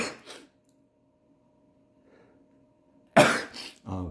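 A person with a cold allergy gives a faint short burst, then after a quiet pause a loud, sharp sneeze close by, followed by a smaller breathy catch.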